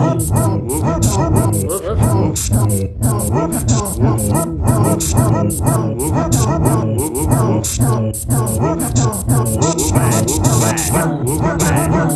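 A basset hound barks repeatedly in a fast, steady series of loud, close woofs, with a person joining in and imitating the barks throughout.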